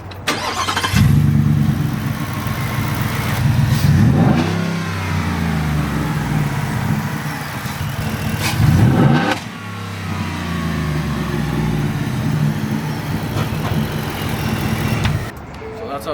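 A Ford 5.0 Coyote V8 in a truck, stock before a cold air intake, is revved twice: each blip climbs sharply then falls back to a steady loud idle, close by.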